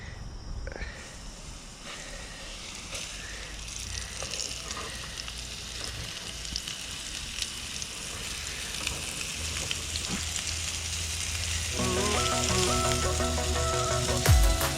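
Ulua fish frying in butter and oil in a pan, a steady close sizzle and crackle that grows louder and busier toward the end, with faint background sounds.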